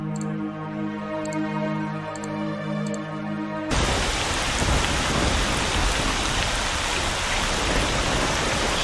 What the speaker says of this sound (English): Sorry about the noisy storms